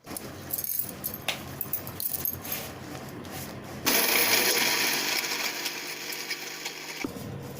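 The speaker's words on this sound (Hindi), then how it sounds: "एटा मी ग्राइंडर कर देनी बिस्किट के।" A small kitchen grinder whirs loudly and steadily for about three seconds, grinding Oreo biscuits into powder, after earlier clattering and handling noises.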